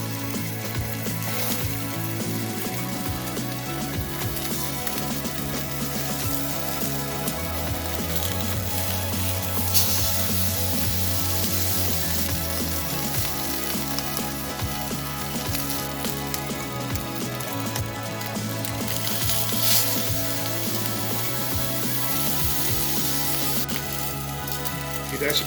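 Fish fillets sizzle steadily in a hot pan for Vietnamese caramelized clay-pot fish and sour soup, a continuous frying hiss running underneath with music in the background.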